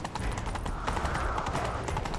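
A horse gallops in The Witcher 3 video game, a fast steady clip-clop of hooves over a dense rumbling game soundscape, close and continuous.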